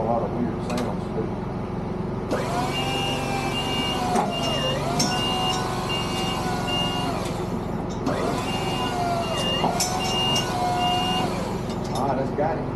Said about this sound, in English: The motor sounds real good too.